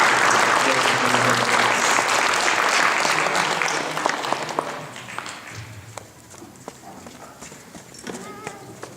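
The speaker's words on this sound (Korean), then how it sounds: "우리 박수하면서 보내드립니다" A Korean church congregation claps as the children leave the service: dense applause at first, thinning into scattered claps toward the end, with voices mixed in.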